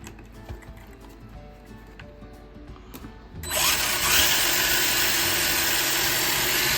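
An RC car's electric motor, run from a LiPo battery, spins up under throttle with a sudden jump from quiet clicking and handling noise to a loud, steady high-pitched whine that holds to the end.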